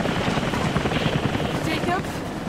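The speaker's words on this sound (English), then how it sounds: "Oh shit. That's a helicopter." A helicopter's steady rotor thrum in the game Rise of the Tomb Raider holds throughout, loud and close, with scattered game sound effects over it and a brief voice-like blip.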